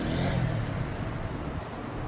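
Slow, congested road traffic passes in a steady, continuous rumble of car engines and road noise, fairly close, with no distinct single vehicle standing out.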